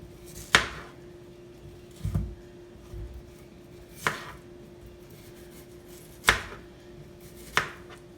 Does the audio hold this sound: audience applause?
no